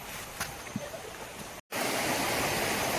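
River water rushes over rocks at the Ali River campsite in Kerling, a steady broadband wash with a brief dropout midway before the flow returns louder and fuller.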